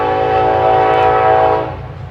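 A train horn blasts loud and sustained nearby for a couple of seconds, then fades as the train rumbles past.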